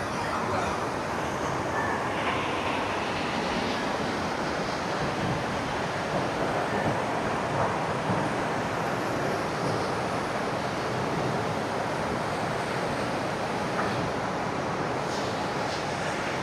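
River water rushes through a dense forest among mountains, a steady broadband wash of flowing water that stays constant and fairly loud throughout with no voices.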